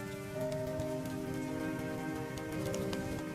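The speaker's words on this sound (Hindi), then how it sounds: "लखन का परिवार तेज बारिश में बीच सड़क पर भीग रहा था।" Heavy rain pours steadily onto a road, a dense continuous hiss of drops on the surface with no pauses and no voices.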